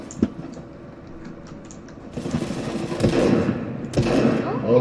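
Fortnite gameplay gunfire crackles in quick bursts, including shotgun blasts, with a sharp shot early on and louder rattling volleys toward the end, mixed with in-game clatter.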